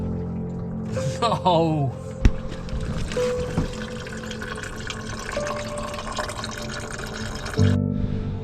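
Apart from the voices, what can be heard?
coolant leaking from Porsche Cayenne coolant pipes under pressure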